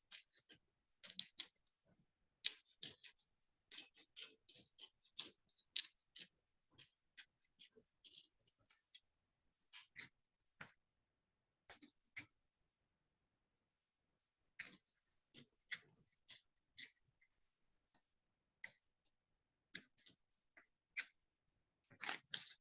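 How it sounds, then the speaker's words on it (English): Sharp, quick snipping clicks come in irregular bursts with short pauses, like scissors cutting through fabric close up, with no talking. "So yeah, so the scissors, you cut it out carefully."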